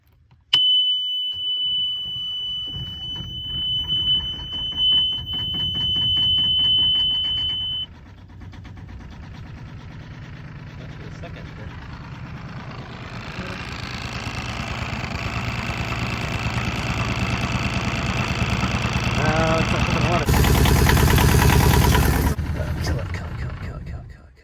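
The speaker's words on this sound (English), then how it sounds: "Let's see if this can start the engine" An engine cranks and catches, then settles into a steady idle that grows louder, with a high beeping tone early on and voices mixed in.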